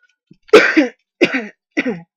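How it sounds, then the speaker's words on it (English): Three harsh coughs close to the mic, the first strongest, spaced about half a second apart, with silence around them. "sorry about the coughing"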